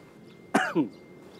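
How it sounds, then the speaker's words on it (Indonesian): A single close, sharp cough followed quickly by a softer second cough, then quiet. "Kai, kenapa pian batuk?"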